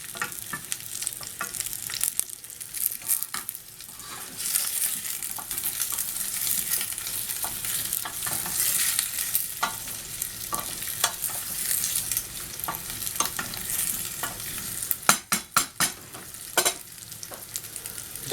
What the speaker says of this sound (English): you just simmer uncovered until the tomatoes break down